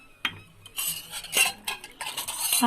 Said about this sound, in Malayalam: ഞാൻ മിക്സിയുടെ ജാറിൽ ഒരു കാൽ കപ്പ് വെള്ളം കൂടി ചേർത്ത് കഴുകി അതിനകത്തേക്ക്